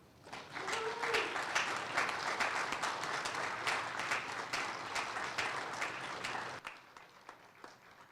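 Audience applause for newly commissioned second lieutenants and ensigns at an NC State naval commissioning ceremony, a sustained crowd of many hands clapping that swells in, holds steady and stops abruptly near the end.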